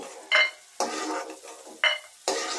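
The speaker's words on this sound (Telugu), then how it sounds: "ఒక కూర గరిటెడు వేరుశెనగ గుళ్ళు వేసుకుని వేయించి" Shelled peanuts frying in a ladleful of oil in a pan, stirred with a spoon, giving four separate bursts of scraping sizzle with quiet gaps between them, close and fairly loud.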